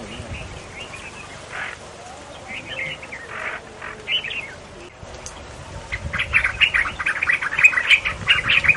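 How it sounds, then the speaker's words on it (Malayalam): A small bird seized in a green vine snake's mouth flaps its wings and cries out, giving a rapid series of sharp, high chirps and squawks that grow louder and denser toward the end, alone with no talking. "പാമ്പിന്റെ വായിൽ പക്ഷിയുടെ ചിറകടിയും കരച്ചിലും."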